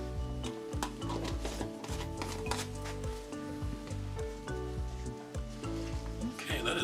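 Glitter powder is stirred into resin with a stick, making close, uneven scraping and clicking strokes in a quick irregular rhythm, fairly quiet, with no talking.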